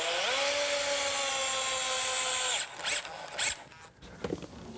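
A power driver sends a 2-inch galvanized bugle head screw into wooden legs with a rising motorized whine for a couple of seconds. It stops abruptly, followed by a few clattering handling knocks.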